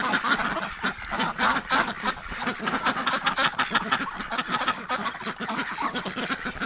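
Drake ducks calling over and over in a penned yard, a dense, overlapping chorus of loud, raspy honks and quacks that runs without pause.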